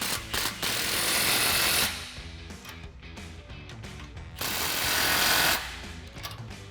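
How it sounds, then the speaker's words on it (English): Power tool driving a 16mm socket to tighten new exhaust clamps on a 2018-2023 Mustang GT, two loud sustained rattling bursts with a quieter mechanical stretch between them. "we're tightening all these new clamps down with a 16mm as opposed to the 15mm socket that we used when we took it apart"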